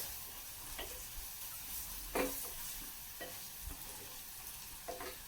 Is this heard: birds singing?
no